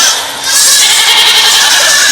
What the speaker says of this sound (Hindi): वो देखो किसी बकरी की आवाज